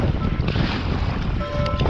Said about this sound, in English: Wind is starting to pick up a little bit for sure.